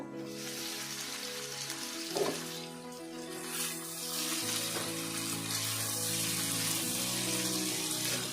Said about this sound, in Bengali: ডুমুর আর আলুটাকে আমি 2 মিনিট ঢাকা দিয়ে কষিয়ে নিলাম।